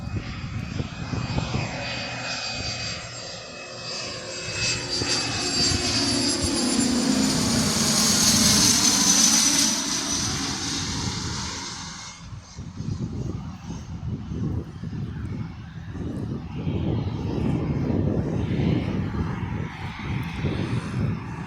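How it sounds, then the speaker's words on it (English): A private jet passes overhead near an airport, its engine roar building loudly to a peak with a whining high tone, then fading into a lower rumble that lingers; no talk over it. "Is it a Cessna type private jet?"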